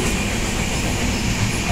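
A train on the Konkan line rolls along, a loud, steady rumble heard from inside the coach with continuous wheel and carriage noise.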